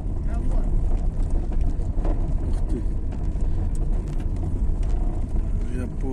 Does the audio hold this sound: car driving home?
yes